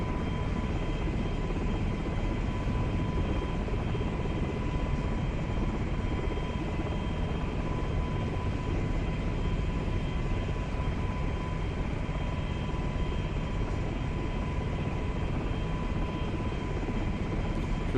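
A helicopter flying practice maneuvers makes a steady, loud rotor and engine drone that holds without a break for about eighteen seconds, with no voices.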